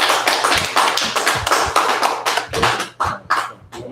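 A small group of people applauds in sharp, rapid claps that ring out close and loud for several seconds, the rhythm loosening toward the end with no talking.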